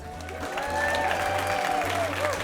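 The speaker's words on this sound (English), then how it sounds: "Give yourselves a huge round of applause." An audience claps and cheers steadily for a couple of seconds, with whoops and voices mixed into the applause.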